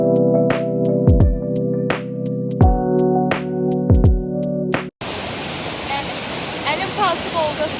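A waterfall's steady, dense rushing roar swells in abruptly partway through, after a stretch of tonal, voice-like sounds, and keeps a constant full wash of water noise to the end.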